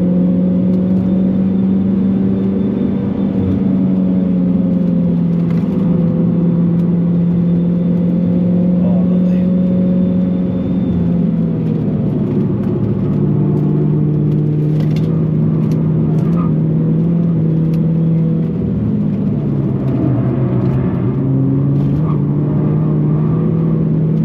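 SAAB 9-3 Aero car driven hard around the Nürburgring, a steady loud engine drone from inside the cabin with pitch rising and falling through gear changes for the whole stretch, with faint voices underneath.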